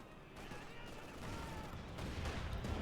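Gunfire from a StuG assault gun in Company of Heroes 2, a World War II strategy game, comes as a steady barrage of distant battle shots and explosions, with faint talk underneath.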